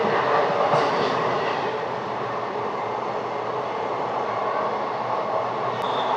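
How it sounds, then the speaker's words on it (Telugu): Tirupati Express train running at speed after leaving Perambur station, heard as a steady, close rumble and roar from inside the carriage, continuous for several seconds without speech. "మన ట్రైన్ స్పీడ్ అయితే గట్టిగానే కొడుతున్నాడు."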